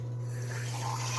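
Water running into a small cup, a soft steady trickle, close and fairly quiet, with no talking.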